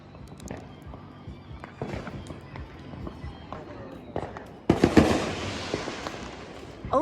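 Fireworks being set off nearby outdoors, a scattered crackle of small pops that builds into a louder burst of bangs and crackling midway, with people talking over it.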